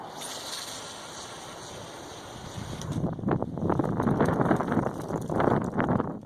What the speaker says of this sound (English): Wind kicked up.